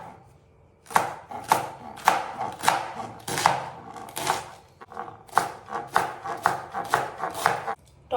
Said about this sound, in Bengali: বাঁধাকপিটাকেও সুন্দর করে কেটে নেব।